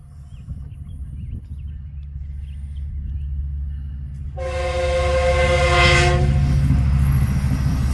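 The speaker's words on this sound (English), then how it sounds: "there's a train coming" A train rumbles steadily nearby at Vasquez Rocks, then a loud, sustained horn blares for a few seconds over the rolling noise before trailing off.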